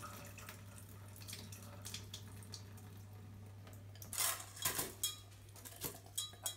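Quinoa being rinsed in water the way rice is washed, with running tap water and splashing, sloshing sounds from a kitchen sink, a steady hum underneath and louder bursts of swirling water and light clinks near the end.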